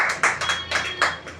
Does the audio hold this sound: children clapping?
yes